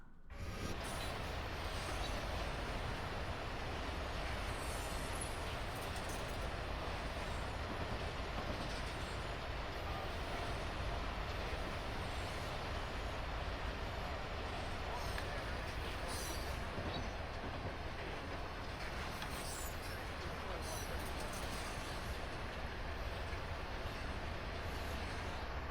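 A locomotive in a train simulator game runs steadily on a hill grade, with continuous rail rumble and wheel noise and occasional faint squeals. Nobody talks.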